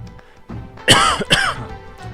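Coughing performed as voice acting in a video game: two sharp, raspy coughs in quick succession, close and loud, following a soft throat sound.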